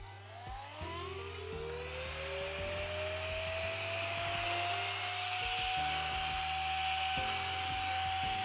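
A vacuum cleaner runs steadily with a rising motor whine that settles into a continuous loud drone, with intermittent clunks and bumps beneath it and no talk.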